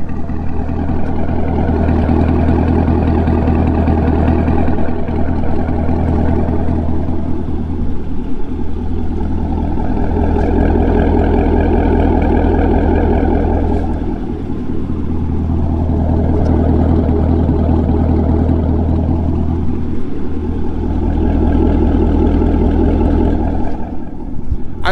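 A C7 Corvette Grand Sport, touring edition with an AWE X-pipe exhaust, idles with a steady, deep, throbbing rumble. The engine is close and loud, with small shifts in pulse and no voices over it.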